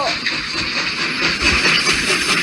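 Train rushing past in a Roblox video game, a continuous loud hissing rumble with faint rhythmic clatter that swells toward the middle.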